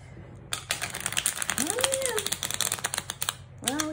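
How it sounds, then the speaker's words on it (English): A rapid, crisp fluttering of small trimmed tarot cards being riffle shuffled, a dense burst of small snaps lasting a few seconds, with a faint whistle-like tone rising and falling over it. "As the size of the cards decreases, the harder it becomes to rifle shuffle."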